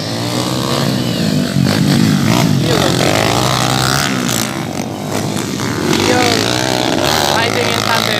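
Motocross motorcycles at a dirt track event in Paco Roman, Nueva Ecija, one carrying a passenger, with a loud continuous engine drone rising and falling with revving, heard up close under a voice talking over it.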